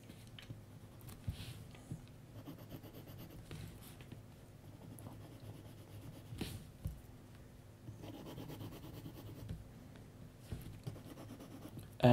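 A 2B graphite pencil scratches and rubs across paper while a sketch of Florence's Ponte Vecchio is shaded, producing soft, quiet, uneven strokes close to the microphone.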